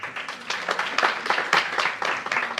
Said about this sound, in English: We can do another round of applause to Collins.